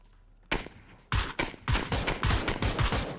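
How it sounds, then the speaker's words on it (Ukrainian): Automatic gunfire in the PUBG battle royale game, a sustained fusillade of loud, rapid overlapping bursts beginning after a half-second lull and continuing densely to the end. "Мені в спину стріляють."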